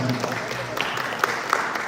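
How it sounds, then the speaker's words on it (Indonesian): Audience applause at a dance studio anniversary event, a moderate spread of clapping with a few sharper claps and voices beneath it. "Mohon tepuk tangan biar anak-anak semuanya"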